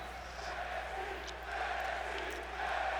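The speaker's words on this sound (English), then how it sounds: "crowd is excited for this matchup. You can feel it in the air." A video-game arena crowd in WWE 2K20 cheers and roars in a steady, dense wash for a wrestling matchup, sustained and distant-sounding with no breaks.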